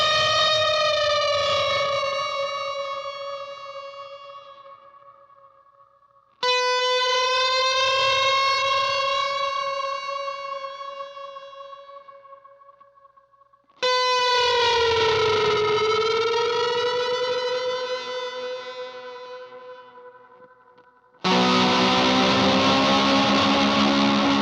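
Electric guitar through effects pedals into a pedal-friendly amp plays three long, swelling effected notes that slowly fade, each cut off abruptly. A dense, heavily distorted passage follows. All of it is loud and close, with no talking.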